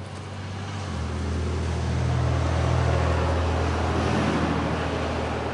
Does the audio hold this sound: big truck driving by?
yes